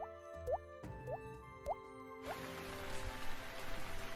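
Rain drips during a night storm, a few distinct plops spaced about half a second apart over steady tonal background music, then denser rain-like hiss swelling up and filling the rest.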